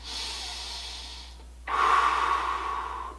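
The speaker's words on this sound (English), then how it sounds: "just take some deep breaths" Deep breathing during a yoga cool-down after a home workout: a long, airy inhale followed by a stronger, louder exhale, close to the microphone with no talking.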